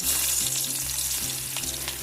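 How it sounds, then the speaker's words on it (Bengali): Chopped onions fry in hot oil for a shrimp bhuna, giving a steady, close sizzle with faint stirring scrapes underneath. "তেল গরম হয়ে গেছে। আগে থেকে কেটে রাখা পেঁয়াজ কুচি দিয়ে দেব।"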